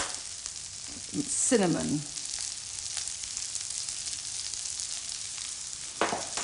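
Soft onions sizzle and fry steadily in a pan as spices are added, with a brief stirring scrape near the start and a quiet word spoken over the continuous close-up crackle.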